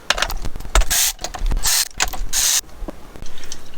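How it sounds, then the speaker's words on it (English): A ratchet with a 5/8 socket loosening the spark plugs on a SeaDoo personal watercraft, loud close bursts of rapid clicking pawl ratcheting in several strokes, separated by brief pauses. "The SeaDoo spark plugs are the 5/8 size, so I'm going to go ahead and remove these spark plugs."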